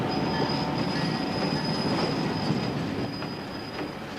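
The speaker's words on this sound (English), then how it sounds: "the train crosses the Missouri River" A Chicago and Northwestern Railroad train rolls along the rails across Iowa farmland near the Missouri River, a steady loud rumble of wheels with a high sustained squeal and occasional clanks throughout.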